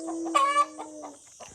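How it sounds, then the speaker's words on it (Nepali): Chickens cluck and squawk at a village home near Darjeeling, a few short calls rising over a quiet background, with one louder squawk standing out partway through. "कुखुरा पनि हस्किन थाल्यो"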